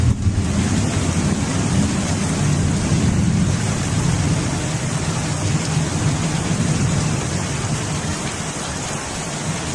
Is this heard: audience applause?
no